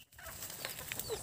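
Chickens on a rural farm cluck in a short burst of scattered, fairly close calls over a low background murmur.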